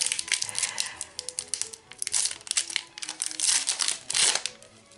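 Crinkling foil wrapper of a Pokémon Tempête Argentée (Silver Tempest) booster pack being torn and opened by hand, a dense run of close, loud crackles and crumples lasting throughout.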